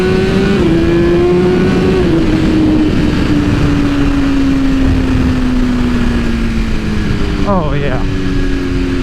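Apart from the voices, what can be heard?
BMW S1000RR motorcycle accelerating hard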